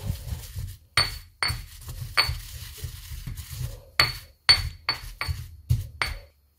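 Anchovies and salt pounded in a mortar for a Sri Lankan sambal, a series of sharp, hard knocks and clinks at an uneven rhythm, close and fairly loud, with softer grinding between strikes and no talking.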